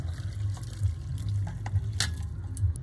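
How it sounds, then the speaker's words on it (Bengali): Fresh chhena (cottage cheese) and its whey poured into a strainer to drain, a low continuous watery splashing and trickle with small drips, with no talking. "আমি এই একটা ছাঁকনির মধ্যে ছানাটাকে ঢেলে ছেঁকে নিচ্ছি"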